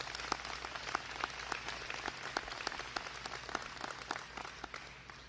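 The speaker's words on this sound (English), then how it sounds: "Let's give him a round of applause" Audience applause for Dr. Conrad Worrell at a state government press event, a steady wash of many hands clapping with distinct sharp claps standing out, moderately loud and continuous throughout.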